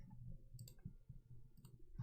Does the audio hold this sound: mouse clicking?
yes